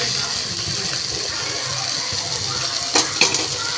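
Boiled potatoes fry and get stirred in a pan for pea potato masala, giving a continuous soft sizzle with a couple of louder scraping stirs near the end.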